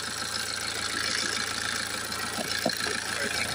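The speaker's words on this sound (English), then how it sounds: "Okay, I've got the engine running there." A 2.0 litre diesel engine in a BMW 118d with a blocked particle filter idles steadily up close, a constant loud rumble with faint irregular ticking.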